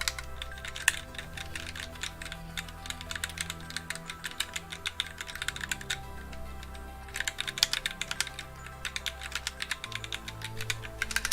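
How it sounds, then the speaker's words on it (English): Typing on a computer keyboard, steady rapid key clicks in clustered bursts over a low buzzing hum and soft background tones, fairly close and moderately loud. "You guys hear the keyboard?"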